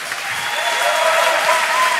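Cheering and applause from a crowd at a Special Olympics World Games weightlifting event in Berlin after a lift, a steady, dense roar of clapping and voices holding at one level for the full two seconds.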